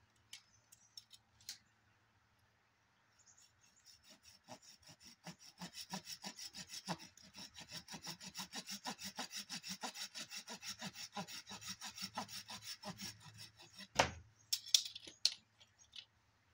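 Hand saw cutting through a branch of an olive yamadori, starting with a few light taps, then a steady back-and-forth rasp of strokes lasting about ten seconds, close and fairly quiet, ending with a snap as the cut finishes.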